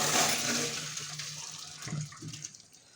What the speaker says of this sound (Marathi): चाळणीमध्ये ना सगळं काही पाणी असं ओतून घ्यायचं आहे